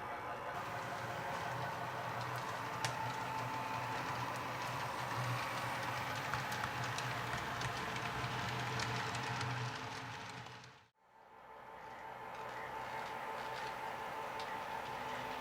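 Model railroad locomotive 301 rumbling through a tunnel as it climbs a mountain grade on a layout, a steady low mechanical hum and rattle with faint ticking, cutting out briefly near the end before resuming.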